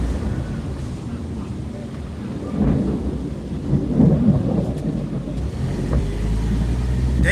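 Thunder rumbles low and heavy during a storm in Upper Darby, swelling in the middle and booming again toward the end under wind noise and faint rain.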